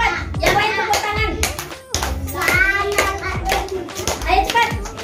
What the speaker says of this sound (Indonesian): Yang lain tepuk tangan.